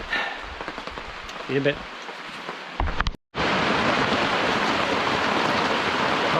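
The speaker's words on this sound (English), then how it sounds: "the rain is coming down" Heavy rain falls in a forest at a sap-collection spot. A person speaks briefly, the sound cuts out for a moment, and then a loud, dense, steady downpour fills the rest.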